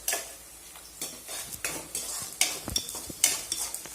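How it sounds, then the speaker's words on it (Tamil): Onions sautéing in a pan for a brinjal kuzhambu, with a soft sizzle under repeated close scrapes and metallic clinks of a spoon stirring against the pan. "இப்போ இந்த வெங்காயம் வந்து நல்லா வதங்கட்டும்."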